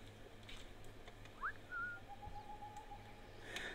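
A player character whistles to lure a guard in Assassin's Creed Rogue: one short rising whistle, then a couple of sustained whistled tones, faint against low ambient game sounds.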